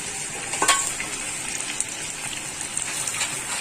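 Ginger and garlic fry in hot oil in a pan for chicken achar gosht, giving a steady, close sizzle with a few small crackles and stirring clinks.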